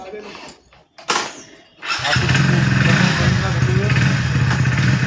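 A motorcycle engine cranks and catches, then settles into a loud, steady running rumble close by. A few voices are heard around the start.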